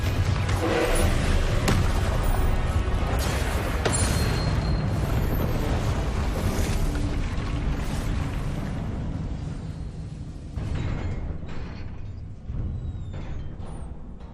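Confringo spell explosion in Hogwarts Legacy, a loud sustained rumbling blast with crackling debris that fills the whole stretch and slowly tapers.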